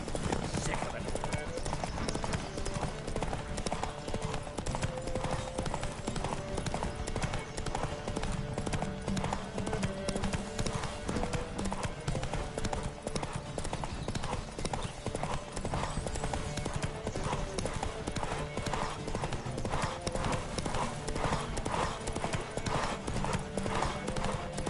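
Galloping hooves of a horse in The Witcher 3 pound in a fast, continuous rhythm throughout, with occasional faint snorting over a steady game backdrop and a voice talking over it.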